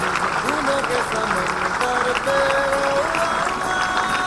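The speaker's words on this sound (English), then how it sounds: "ladies and gentlemen, let's hear a big round of applause for Dilip Khandelwal" Round of applause from an audience welcoming a new managing director at a workplace event, steady dense clapping filling the whole stretch while a voice talks over it.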